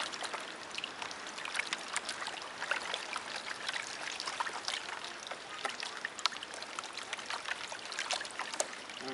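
Water sloshing and trickling in a gold pan being shaken during panning, a continuous soft splashing wash with irregular little splashes, no voices.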